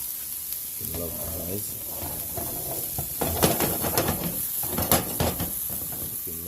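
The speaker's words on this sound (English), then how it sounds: "I'm gonna fry up all these things first" Vegetables frying in a pan for a Jamaican-style omelette give a steady sizzle and hiss, with a voice speaking over the top and louder crackling bursts toward the end.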